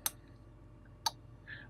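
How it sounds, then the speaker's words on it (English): A relay on an Arduino Nano relay board clicks twice, sharp and close, about a second apart, in a quiet room with a faint tone after the second click. "the microphone should easily pick up that clicking noise"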